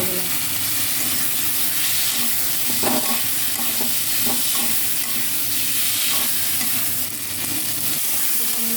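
Spice paste sautéing in a pan for a Bengali-style crab curry: a loud, continuous sizzle with the low rumble of the hot pan, and spatula scrapes and taps scattered throughout. No talking.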